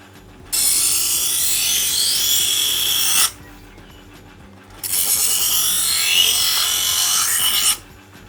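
A smaller kitchen knife drawn across a sharpener at a European-American angle gives two long, loud, close rasping strokes, each about three seconds long with a short pause between them, and nobody speaks.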